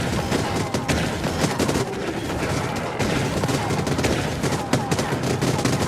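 Enemy gunfire in the video game Void Bastards: rapid, dense bursts of shots fire almost continuously, loud and close, with no pauses over several seconds.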